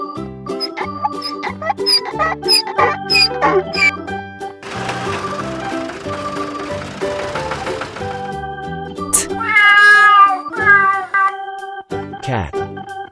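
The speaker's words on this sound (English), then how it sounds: "Cat." A cat meows in a children's farm-animal nursery rhyme, with a drawn-out, wavering meow and a shorter cry following, set against cheerful music.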